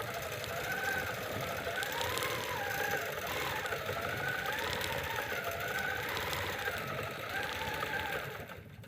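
A quilting sewing machine stitching a ribbon candy pattern on a quilt, fast steady mechanical whirring throughout that fades out in the last moment, no talk.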